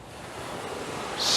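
Ocean waves on the shore at dusk, a soft continuous surf wash that swells slightly louder at the end, heard from close by without any talk.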